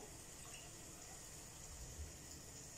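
A substantial pour of water into a masala steak filling cooking in a pot, a faint steady hiss of running liquid with no talking.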